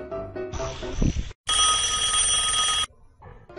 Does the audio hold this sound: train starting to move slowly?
no